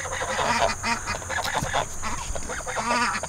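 A goose honks repeatedly among a barnyard flock of laying hens and a duck, its calls overlapping with clucking and quacking in a busy, fairly close mix with no talk.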